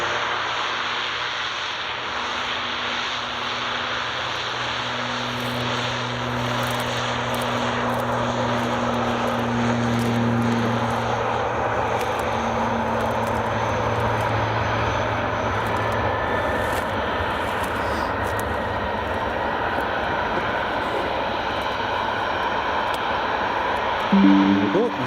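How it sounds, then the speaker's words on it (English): A Jet2 Boeing 737-800 airliner taxis at Glasgow Airport, its engines giving a steady, fairly loud whine and rumble that holds throughout with a faint low drone underneath, while people talk nearby. "there's Jet2 738 just taxiing out now"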